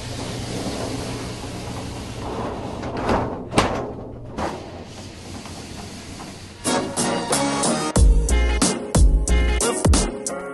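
A glass shower door in a converted bus bathroom slides along its track with a rolling rumble, then bangs and rattles shut in several sharp, loud knocks near the end.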